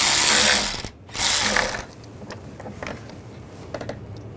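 A ratchet with an 8mm socket works a radiator bolt on a 2008-2012 Jeep Liberty 3.7L V6, a loud close burst of rapid clicking, a brief pause, another burst, then faint scattered ticks.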